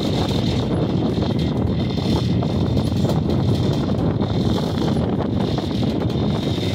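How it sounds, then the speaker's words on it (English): Strong wind blowing in Bergen, a steady loud broadband roar buffeting the microphone throughout, with no voices. "There's a little wind in Bergen!"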